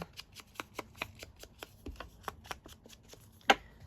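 An ink pad dabs repeatedly on the edges of a blank paper journal card, making about fifteen quick, soft, close tapping pats in a steady rhythm, with one sharper knock near the end.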